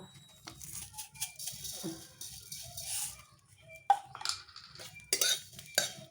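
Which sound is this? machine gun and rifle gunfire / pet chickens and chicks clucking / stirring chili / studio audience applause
stirring chili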